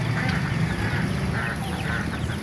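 Chickens and other fowl at a busy pet market in Baliuag, a continuous clamor of overlapping clucks, squawks and honk-like calls, close and loud over constant market background noise.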